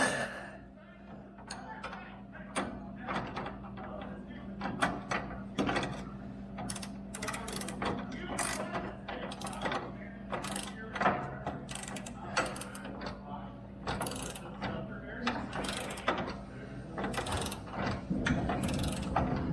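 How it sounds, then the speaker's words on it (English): A hand wrench ratcheting as bolts on a snowblower mount are tightened, irregular bursts of close metallic clicking over a low hum, with some breathing and faint voice sounds in the background. "Now we have to get wrenches up here and get these things tightened down."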